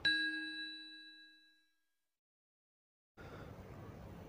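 A single bright bell ding rings out and fades slowly, followed by silence and then a low, steady hiss of background noise.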